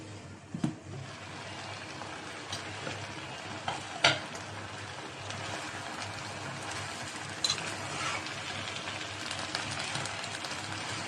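Greens such as kalmi shak and radish sizzle in hot oil in a pan as they are stirred, with a steady frying hiss, a few sharp scrapes and clinks, and no talking.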